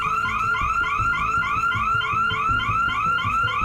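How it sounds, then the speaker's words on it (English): A car alarm going off nearby, a loud continuous electronic siren sweeping up in rapid repeated whoops, steady throughout with faint background noise. "it was definitely a little nerve-wracking at that moment with that alarm going off"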